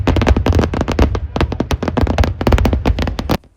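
Fireworks go off at the Kavasheri Pooram festival in Palakkad in a rapid, loud barrage of close cracks and bangs that come almost without pause, then stop abruptly near the end.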